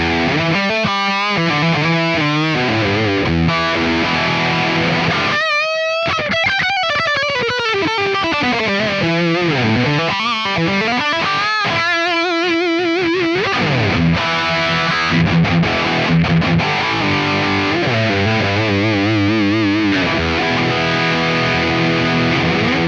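Heavily distorted metal guitar tone through a Line 6 POD Go using the Das Benzin Mega amp model, loud sustained chugging riffs with bends and held chords playing continuously.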